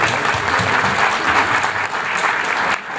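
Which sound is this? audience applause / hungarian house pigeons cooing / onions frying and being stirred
audience applause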